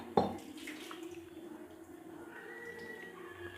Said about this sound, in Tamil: மிக்ஸி அலசி தண்ணியும் சேர்த்தாச்சு.